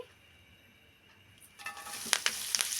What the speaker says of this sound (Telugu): ఇప్పుడు కొద్దిగా నూనె వేసుకొని కరేపాకు అన్నానికి